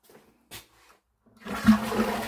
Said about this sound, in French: L'eau est branchée, donc je vais pouvoir tirer ma chasse d'eau.